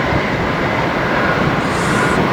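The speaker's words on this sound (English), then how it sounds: "oh, there's a train." A train runs along the Antrim coast railway by the beach, heard as a steady, loud rumble of wheels on track that continues without a break.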